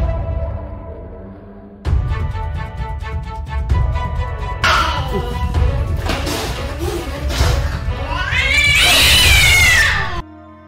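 An angry, aggressive house cat yowls and caterwauls in loud, drawn-out wails that rise and intensify, with a few thumps, alone and close.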